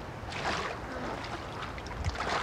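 Oars dip and pull a small rowboat through the water, with soft, faint splashes and sloshing repeating at an uneven pace.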